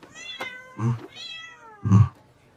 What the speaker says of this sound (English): Sir, we found a cat inside your son's backpack.